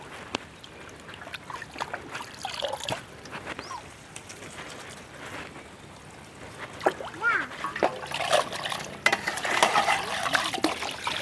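Stork fish being scrubbed and rinsed by hand in water, with soft splashing and trickling that grows louder and busier toward the end, under a person talking.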